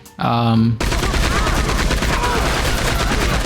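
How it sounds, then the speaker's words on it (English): A Gatling gun mounted on the back of a wagon in Red Dead Redemption 2 fires a loud, steady stream of rapid shots that runs unbroken to the end, preceded by a brief harmonic tone at the start. "the most efficient way to kill all of them quickly before they all can manage to run away is a Gatling gun"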